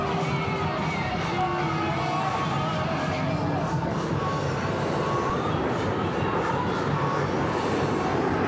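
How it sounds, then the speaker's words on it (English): Blue Angels jets in diamond formation at Seattle's Seafair air show roar past in a sustained, loud, broad rush of engine noise, mixed with crowd noise and a voice. "From the right, the Blue Angel Diamond."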